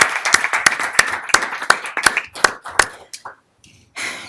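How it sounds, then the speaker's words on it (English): A meeting room crowd at a Hennepin board session gives a round of applause for Tia Joy Peterson, sharp close claps in a quick uneven rhythm that thin out and stop, with a brief burst of sound after a short gap. "I think we should all acknowledge Tia with a round of applause"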